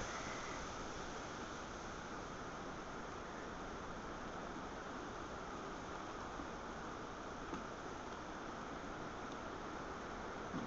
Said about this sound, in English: The wind is really intense, and it's more constant now.